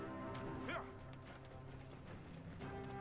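A horse gallops in the Assassin's Creed Origins video game, its rapid hoofbeats running steadily for a few seconds beneath game music and ambience, with no speech.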